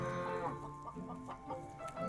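Minecraft chickens cluck softly in a steady stream of short, pecking notes over a faint, continuous background.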